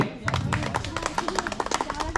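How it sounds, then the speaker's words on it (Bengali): An audience claps at a prize-giving and performance event, a dense run of sharp, overlapping hand claps that goes on steadily for a couple of seconds, close and fairly loud, with a low murmur of voices beneath. "হাততালি জোরে।"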